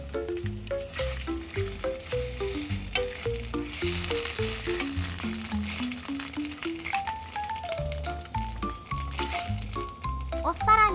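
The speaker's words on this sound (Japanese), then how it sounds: "ウインナーに爪を模したデザインを取り入って炒めます。" Wiener sausages scored with a claw-like pattern stir-fry in a pan, sizzling steadily with rhythmic scraping and stirring, close up, while background music plays throughout.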